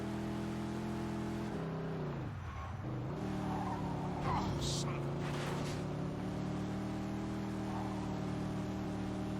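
A car cruising along a highway in Mafia 2 Definitive Edition, a continuous engine drone that shifts pitch as it slows and speeds up, with occasional higher swishes, under a low background of people talking.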